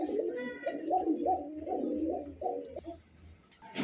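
A male and female pair of pigeons kept for sale coo close by in repeated low, throaty rolling phrases that run almost continuously, with brief pauses and a bit of background noise.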